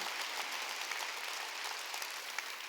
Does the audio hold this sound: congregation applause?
yes